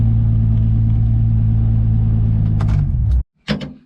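A Nissan 350Z rumbles close and loud at night, its deep engine drone holding steady before it cuts out abruptly, followed by a brief knock or door-like thud.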